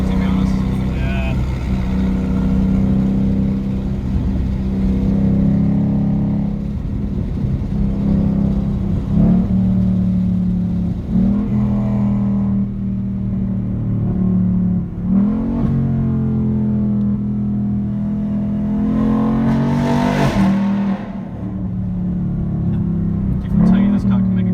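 A Ford Mustang GT engine drones and revs continuously from inside the car, with several rising surges of throttle, heard steadily under people talking throughout.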